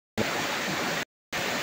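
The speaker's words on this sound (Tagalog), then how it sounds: "pabagsak na tubig" Water falls steadily from an overflow pipe in a continuous close rushing hiss, cut off by a short silence before resuming.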